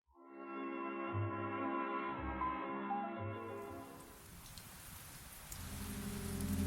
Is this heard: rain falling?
yes